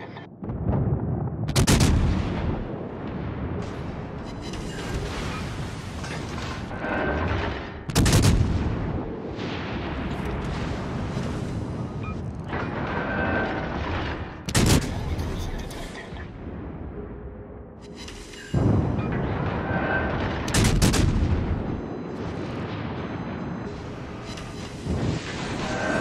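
Naval gunfire in the World of Warships Legends video game: heavy, booming artillery salvos go off every few seconds, each followed by a rumbling tail over steady background noise.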